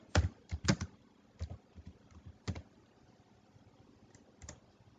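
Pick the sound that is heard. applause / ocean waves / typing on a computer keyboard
typing on a computer keyboard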